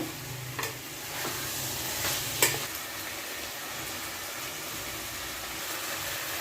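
Potatoes go into a chicken curry frying in a pan, bringing a constant close sizzle with a couple of brief clinks and scrapes of stirring. No talking is heard.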